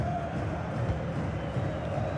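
Stadium crowd noise in FIFA 21 during a Boca Juniors vs Racing Club Libertadores quarter-final, a continuous roar with faint cheering swells, loud and unbroken.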